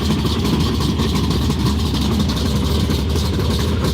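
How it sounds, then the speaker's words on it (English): Super trucks at Vado Speedway fire up, a dense, continuous rumble of several heavy race engines idling together, loud and unbroken across the whole moment. "They're starting the trucks."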